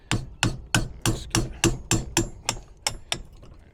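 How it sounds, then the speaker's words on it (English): Sharp metal hammer blows drive a nylon bushing out of a stabilizer part on a fifth-wheel RV's suspension. About twelve evenly spaced strikes ring out close and loud, each with a brief metallic ring. "Try and hammer out this nylon bushing"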